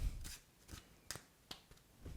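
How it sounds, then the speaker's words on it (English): Cards from a Svengali deck are popped off the thumb one after another in a false overhand shuffle, giving soft, quiet papery snaps at an uneven pace in a hushed room. "you're just popping off cards off your thumb for the Svengali principle to work like this"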